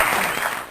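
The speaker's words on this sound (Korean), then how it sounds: "박수!" Brief burst of applause during a TOEIC listening lecture introduction, steady, even clapping throughout the short span at moderate level, with no voices over it.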